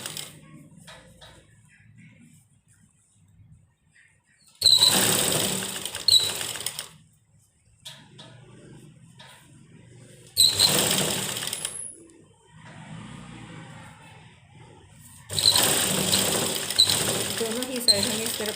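A sewing machine stitches a fabric strip onto a one-year-old baby's frock in three loud bursts of rapid mechanical whirring, with quieter pauses and a voice talking in between.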